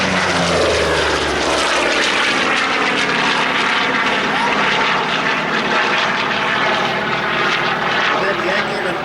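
A Grumman Bearcat World War II fighter roars past in a loud propeller-engine flyby, its sustained drone holding strong throughout with shifting pitch as it banks through a pass.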